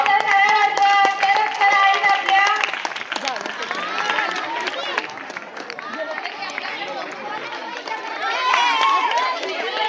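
Loud audience applause at a school Women's Day event, dense rapid clapping from a crowd with cheering and overlapping voices, steady then easing slightly mid-way before swelling again.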